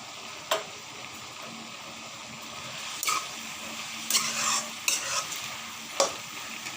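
Banana flower curry cooks in a pan with a soft, steady sizzle, broken by several sharp scrapes and clinks of a spoon stirring against the pan.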